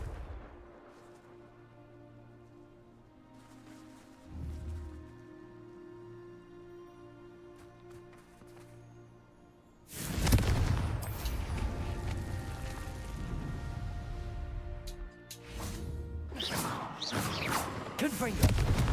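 Fiery Confringo spell blasts in the video game Hogwarts Legacy: loud bursts of broadband crackle erupt midway and again near the end, following quieter game ambience and faint voices.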